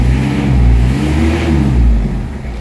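A low-power car engine revs steadily at about 2000 RPM with a low, droning growl that swells and eases slightly, close and loud, with no talking.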